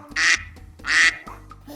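Two loud, bright duck quacks sound close up and alone, each about a quarter second long, separated by a short pause, in a children's animal sound guessing game.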